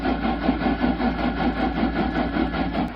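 A Rule 3700 HX bilge pump runs with a steady, close motor hum and a faint rhythmic pulsing, holding an even level for the whole stretch with no voices.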